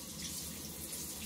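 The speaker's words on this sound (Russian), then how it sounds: "Вот такой напор воды у нас производит" Steady broadband rush of shower water from an Atmor In Line 5 kW electric tankless water heater, flowing continuously at close range with no voices.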